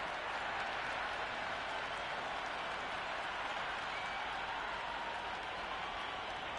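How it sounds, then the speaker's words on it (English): A large stadium crowd in a cricket video game roars and applauds steadily throughout, a dense, continuous wall of cheering with no break. "Will you listen to that crowd? They are loving this."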